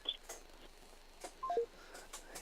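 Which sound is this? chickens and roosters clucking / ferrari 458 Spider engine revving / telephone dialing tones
telephone dialing tones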